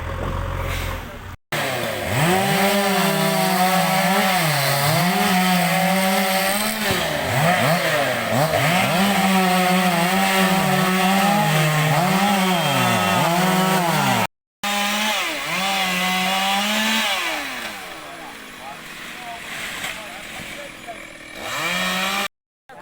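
A chainsaw cuts roadside trees, its engine droning loudly and continuously while revving up and down in wavering pitch, with two brief dropouts and a quieter stretch near the end.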